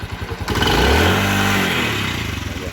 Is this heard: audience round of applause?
no